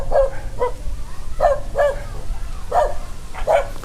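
A dog barks in short sharp bursts, about six or seven barks spaced irregularly across a few seconds, fairly close over a low background rumble, set near a rice field in Naga City, Philippines.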